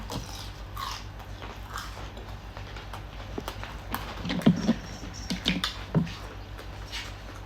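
Someone eating Vietnamese nem nuong pork rolls, close wet chewing and crunchy bites with soft clicks, repeated irregularly over a faint steady hum.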